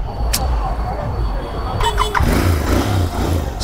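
A Royal Enfield Interceptor motorcycle on its stock silencer idles with a steady low engine thrum, then a short burst of mechanical clatter, settling back into a close, smooth rumble.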